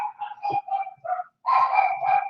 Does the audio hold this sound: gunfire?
no